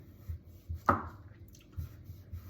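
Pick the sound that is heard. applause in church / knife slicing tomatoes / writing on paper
knife slicing tomatoes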